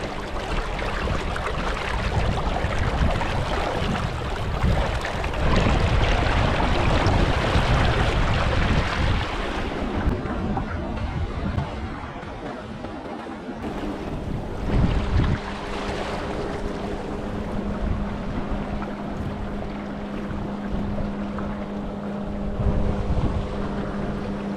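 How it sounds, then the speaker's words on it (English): Sailboat running fast in strong wind, with a loud, constant roar of wind buffeting the microphone over rushing water and hull noise, easing slightly midway before building again. "Having a lovely sail. The wind is glorious."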